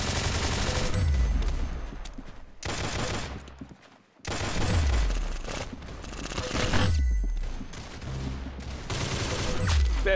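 Rapid bursts of video game gunfire in the PC shooter Arsenal, loud and dense, with repeated volleys and brief pauses between them.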